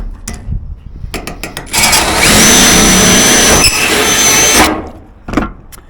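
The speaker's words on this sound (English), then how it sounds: "just make sure when you're riveting these you do it from the bottom, it'll give you a neater look." A rivet tool fastening a downpipe elbow below a gutter: sharp clicks, then a loud sustained grinding rasp of metal for a few seconds, followed by a few more clicks.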